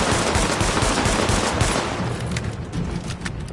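Rapid bursts of automatic gunfire from a PS4 shooter, loud and close, rattling continuously before thinning into scattered shots.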